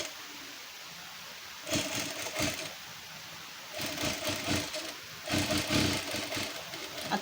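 A sewing machine stitches a sleeve onto a lined one-piece dress in three short, rapid whirring bursts separated by quiet pauses, close and fairly soft.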